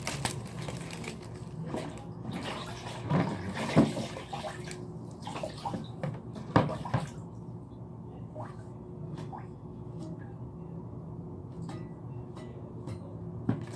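Wet sponge washing over a wall patched with compound, water splashing and wiping in scattered bursts close by, busiest in the first seven seconds and then quieter with occasional drips and faint movement.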